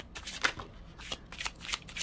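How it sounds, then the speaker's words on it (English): Slippery tarot cards being shuffled in a series of soft, papery riffling bursts, close and fairly quiet, with no talking. "These are slippery cards, so shuffling is not fun."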